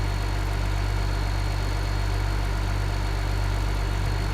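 Simulated tractor engine from Farming Simulator 2015: a steady, loud, low droning hum with constant idling vibration, unchanging throughout.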